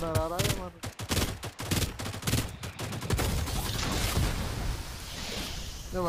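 Automatic gunfire in the battle royale game Farlight 84 rattles in quick repeated bursts, loud and near, while someone talks over the opening shots before sustained firing and whooshing effects take over.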